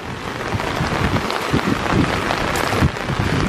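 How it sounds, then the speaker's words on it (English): Heavy rain pouring down during a storm near a flooded dam, with dense steady hiss and low rumbling thunder rolling through in the background. "Umbrella, lightning, and thunder ish."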